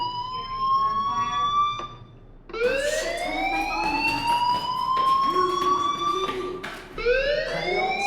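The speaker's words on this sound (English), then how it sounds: "do you hear that fire alarm? That means you should be outside." A fire alarm siren wails in the video game Life Is Strange, rising tones repeating in loud sweeping cycles that dominate throughout with brief resets between them.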